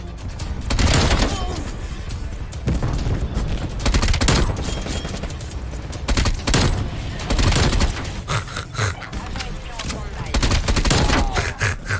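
First-person shooter gunfire: repeated loud bursts and single shots spread across the clip, close and punchy with short gaps between volleys, and a voice chatting in the background.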